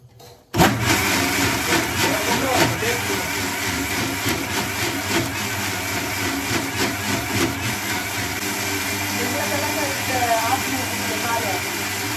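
A kitchen grinder switches on and grinds jackfruit with coconut, a loud continuous motor whine and churning that starts abruptly and holds steady to the end.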